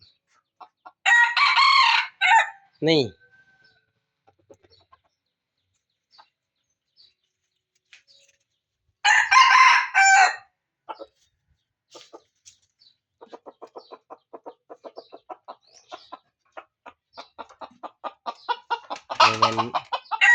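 A rooster crows loudly twice, then a string of soft rhythmic clucks follows, ending with another sharp call; a brief voice appears.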